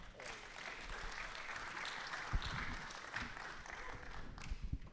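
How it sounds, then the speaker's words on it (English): An audience at a summit on decentralization, AI and computing applauds the co-leads of the Berkeley Blockchain Accelerator, a continuous, fairly faint patter of many hands with a few scattered crowd sounds. "if you guys could give a round of applause to Keshav and Bell"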